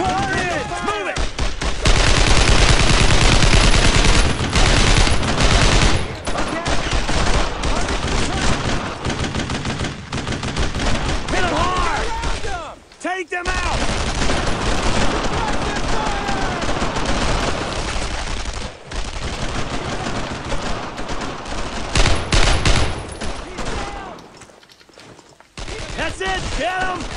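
Sustained suppressing fire in the World War II shooter Brothers in Arms: Road to Hill 30, loud continuous rifle and machine-gun bursts with shouted voices, pausing briefly twice.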